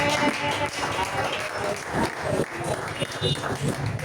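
A church congregation claps and cheers in a dense, continuous wash of applause, with raised voices mixed throughout the crowd noise.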